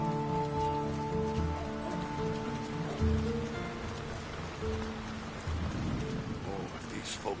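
Steady rain falling in the fantasy video game Lord of the Rings: War in the North, a constant hiss layered under music with sustained tones and a voice speaking over it.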